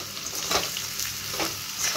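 Ingredients fried until red sizzle in a pan for a rohu fish curry with bitter gourd, potato and taro, while a spatula stirs them in repeated scraping strokes over a constant close frying hiss.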